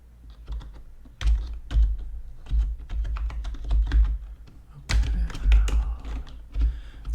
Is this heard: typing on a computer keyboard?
yes